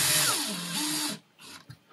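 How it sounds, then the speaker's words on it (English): A small power driver tightening a bolt onto a Nerf blaster trigger during a build, a close whirring burst of about a second that drops in pitch as it loads up, then stops, followed by faint handling clicks. "we're gonna tighten this bolt down onto the trigger"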